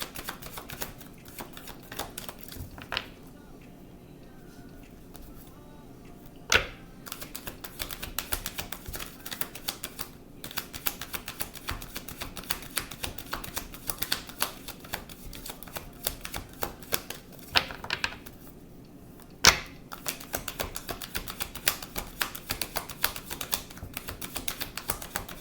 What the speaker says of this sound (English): my arms be hurting from shuffling these cards